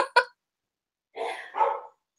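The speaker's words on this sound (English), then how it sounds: "my dogs are barking" A few quick dog barks close by, two sharp yips at the start and then two louder, longer barks after a pause, with no talking over them.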